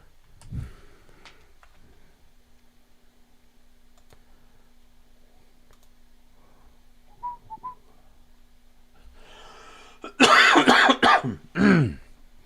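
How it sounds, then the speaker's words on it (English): After a quiet stretch with faint clicks, a burst of harsh, close coughing breaks out, followed by one more throaty cough. "Excuse the coughing, guys."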